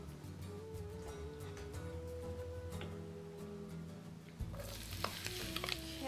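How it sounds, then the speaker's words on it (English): Onions sauteing in olive oil in a skillet give a steady soft sizzle and stirring noise under a background tone, with the frying growing brighter and louder for the last second or so. "start to heat up my skillet with a little bit of olive oil so we can start to saute the onions"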